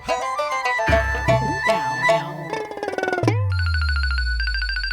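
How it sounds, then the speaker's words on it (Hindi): A phone rings while a friend is being called, first a loud electronic melody, then a steady series of repeated beeping tones, close with no talk. "मैं गुनगुन को फोन करती हूँ, शायद उसे पता हो।"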